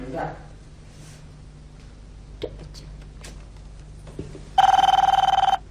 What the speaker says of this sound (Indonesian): Angkat tuh telepon.